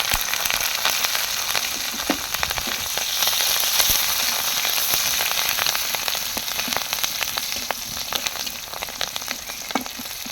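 Green chillies tossed into onions frying in mustard oil give a loud, steady sizzle full of fine crackles and spatters, close up and continuous, with no one talking.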